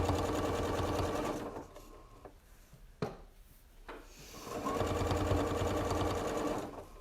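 A Janome sewing machine stitches in two steady runs of rapid, even needle chatter, pausing in the middle for a few soft rubs and a sharp click before the close, busy whir starts again.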